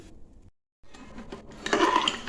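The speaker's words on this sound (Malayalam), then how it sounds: "അപ്പം ഇനി ഇങ്ങനെ ഊറ്റി ഇട്ട് കൊടുക്കട്ടെ വെള്ളം തിളച്ചിട്ടുണ്ട്" Soaked rice is drained and tipped into a pot of boiling water, producing a brief clatter of metal pot and utensils that grows louder toward the end after a short silent gap, with no talking.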